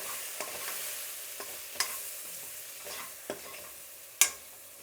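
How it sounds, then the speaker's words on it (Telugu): Vegetables with chili powder and coriander powder being stirred in a pan, a faint steady sizzle broken by several soft scrapes and taps of a spoon, with one sharper clink near the end and no voices. "ఇప్పుడు బాగా కలుపుకుందాం."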